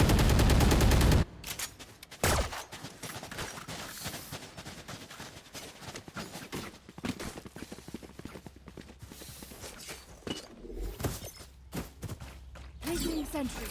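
Gunfire from a Valorant esports match, the CVAL 2024 Winter Grand Finals, including an Operator sniper rifle: sharp repeated shots and bursts of game sounds throughout, with a commentator talking over the action.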